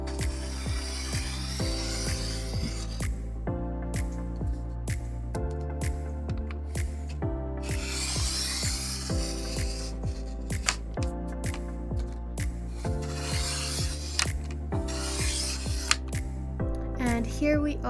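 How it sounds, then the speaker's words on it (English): Paper prints and stickers being cut, with repeated crisp snipping strokes in a steady rhythm, close and fairly loud, with no talking. "now let's hear some cutting ASMR"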